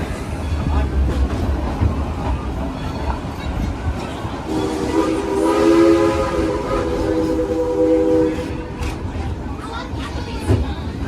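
Dollywood Express steam train, engine 192, rolling along with a steady rumble and clatter, then a loud sustained horn blast in the middle, with voices over the running noise.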